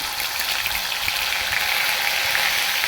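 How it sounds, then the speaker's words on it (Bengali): Dry red chili and ginger-garlic paste tempering in hot oil in a wok, giving a steady, loud, dense frying sizzle that stays even from start to finish, with no voices. "আমি এই কড়ার মধ্যে আমি ফোড়ন দিয়ে দেবো। একটা শুকনো লঙ্কা, 1 চামচ আদা রসুনের পেস্ট"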